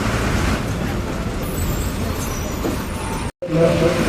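A bus engine rumbles steadily as the vehicle rolls slowly into Eengapuzha bus stand, with road noise and a brief cut near the end.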